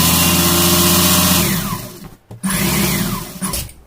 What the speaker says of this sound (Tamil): இப்படி மேல் பக்கமாக வச்சு இப்படி ஓரத்தில் நம்ம தையல் போட்டுக்குவோம்